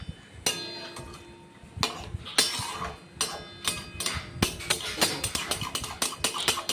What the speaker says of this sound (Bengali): ছোট ছোট টুকরো করে কেটে নিয়ে পালং শাক আর ওই মশলাটা দিয়ে যে কষা আছে তার মধ্যে দিয়ে দেব, দিয়ে ভালো করে মিশিয়ে নেব।